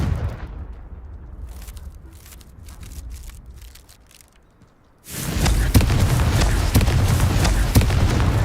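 A Confringo fire spell explodes in the Hogwarts Legacy video game, a sudden loud blast at about five seconds that stays as a dense, roaring rumble. Scattered faint crackles come before it.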